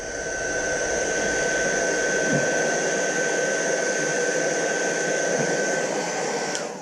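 A heat gun blows a steady, even whir with a faint high whine as it warms the glued emblem on a Honda Goldwing fairing, running close and continuous with no talk.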